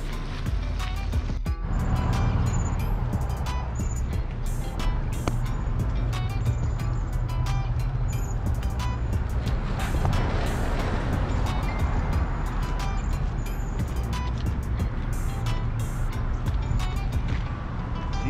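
A car idles and rolls up at an outdoor park-and-meet in Payson, Arizona, a steady low engine rumble and tyre roar held close throughout, with faint ticks and clatter from the gathering around it.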